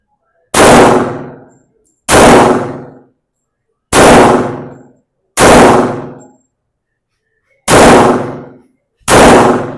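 Six loud, sharp pistol shots from a Springfield Armory 1911, spaced about one to two seconds apart, each ringing out with a short decaying echo and near-silence between them.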